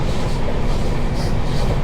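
The Charlapalli Express passenger train rumbles along steadily from inside a carriage, with a loud, continuous low roar and faint rhythmic wheel clatter.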